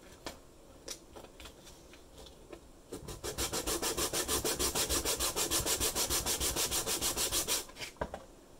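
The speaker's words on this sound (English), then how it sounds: "This sandpaper was provided in the kit." Sandpaper from a kit rubs back and forth on a Goodman SCURA 120 model part, a few tentative scrapes, then a steady run of fast, even rasping strokes close by before it stops.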